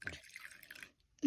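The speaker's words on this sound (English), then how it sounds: "Mash, we have to pour in the water. Ooh, it's getting filled" Water is poured into a small bath for a puppy's bubble bath, making a soft, brief splashing and trickling close by. A sudden louder thump follows at the end.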